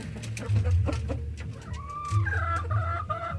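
Several chickens cluck and call in short bursts close by, with a low rumbling background throughout.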